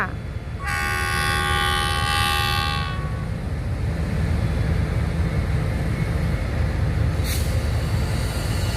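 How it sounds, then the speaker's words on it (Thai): A GE diesel locomotive horn blasts loudly for about two seconds over the steady rumble of a long train nearby in Thailand, with a short high squeal later. "ทำไมเสียงวีดแปลก ๆ ยังไม่เคยได้ยินเสียงวีดนี้"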